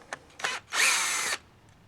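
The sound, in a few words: cordless drill removing motor brush cover screw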